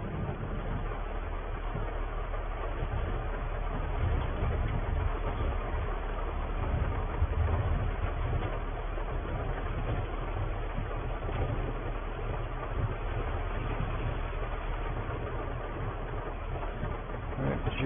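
A farm tractor idles steadily with a low, continuous rumble that stays even throughout, heard at moderate distance with no talking.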